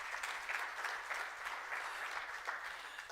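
Audience applause at the launch of the Bank of Namibia's 2022 annual report, a steady, dense wash of clapping from a crowd that holds evenly for the whole stretch.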